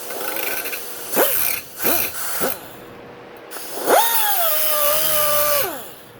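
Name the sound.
grinding a dirt bike steering stem bearing off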